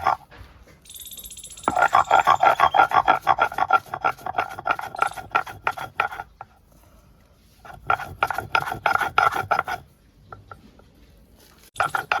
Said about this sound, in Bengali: আমি জিরা লঙ্কাটা বেটে নিচ্ছি